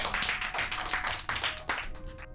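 Schoolchildren clapping together in a short, uneven burst of applause, moderately close, with a few scattered claps trailing off at the end.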